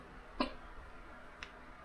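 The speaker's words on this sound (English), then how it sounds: "Do you have the hiccups?" Two short, faint hiccups from a person indoors during a meal out in Alaska, about a second apart, the first slightly stronger, over quiet room tone.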